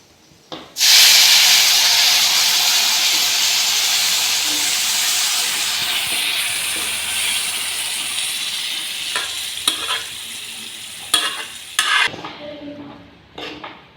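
Boiled chickpeas, beetroot and carrot hit hot masala in a pan with a sudden loud hiss and sizzle that fades slowly, followed by scraping and clinking stirs near the end.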